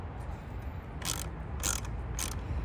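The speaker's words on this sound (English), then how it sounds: "Just going to break these bolts and get them loose." A T30 bit on a 1/4-inch drive ratchet breaks loose the roof rack bolts on a Lexus GX550 Overtrail, giving three short, sharp clicking bursts spaced about half a second apart over a low background rumble.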